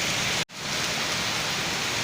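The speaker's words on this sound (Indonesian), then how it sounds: "Aduh, gimana mau mancing ini hujan mulu." Steady heavy rain pours down outdoors at a fishing spot, a dense loud hiss that cuts out for an instant before resuming.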